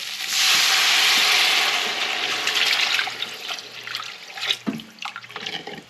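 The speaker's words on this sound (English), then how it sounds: "so I'm going to be almost filling this with water" Water pours steadily into a jug, a loud rushing stream that gradually thins into splashes and gurgles near the end.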